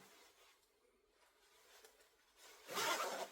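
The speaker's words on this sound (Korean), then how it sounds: "지퍼를 이렇게 잠그고 자, 지퍼를" Zipper on a raincoat being closed, a few soft scrapes followed by a louder, quick rasping zip near the end, close and otherwise quiet.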